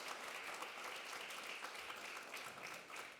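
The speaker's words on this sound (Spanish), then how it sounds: "Aplausos." Steady audience applause fills a university event honoring a law professor, a dense continuous clatter of many hands at moderate level with no voices over it.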